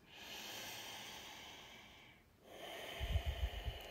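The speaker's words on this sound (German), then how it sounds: "nur in einer schnelleren Geschwindigkeit mit einem stoßweise nach draußen transportiertem Ausatmen" Kapalabhati yoga breathing, a soft steady airflow that pauses and then breaks into a quick series of short, forceful nasal exhalations, close and quiet with no talking.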